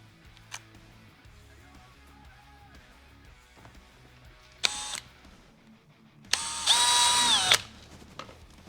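Two bursts of a high-pitched power drill with a 1/8 bit whirring, a short one and then a longer one, each starting and stopping abruptly amid quiet background, drilling into a kayak to mount pad hooks.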